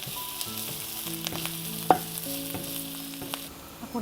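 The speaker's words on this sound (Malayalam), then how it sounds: "അത് നമുക്ക് എണ്ണയിലേക്ക് ഇട്ട് കൊടുക്കാം. ചെറിയൊരു ഗോൾഡൻ കളർ ആകുന്നത് വരെ നമുക്കൊന്ന് വഴറ്റിയെടുക്കാം." Chopped ginger sautés in hot oil, giving a steady soft sizzle with a few clinks and scrapes of a utensil stirring the pan, heard alone without any talking.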